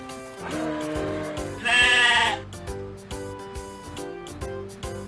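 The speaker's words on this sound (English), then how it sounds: "This is a mountain goat." Mountain goat bleating in The Hoobs PS1 game, a loud drawn-out wavering bleat in the middle of a five-second stretch, set over a steady game music bed with soft notes before and after.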